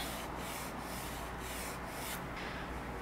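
Pencil or drawing tool stroking horizontal straight lines across paper, a steady soft scratchy rubbing with faint repeated strokes, close and quiet, no voices.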